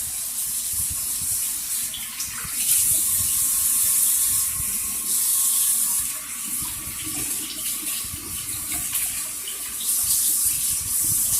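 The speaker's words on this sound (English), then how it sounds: "We're rinsing in warm water to get all of this pulp that you see off the seeds" Seeds being rinsed by hand under warm running tap water in a sink to wash off pulp, a steady close splashing stream with faint handling clicks throughout.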